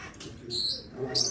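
Birds in an exotic bird shop with colorful parrots give short bright chirps and calls, two sharp bursts close by amid soft cooing and background shop noise, with a person's voice nearby.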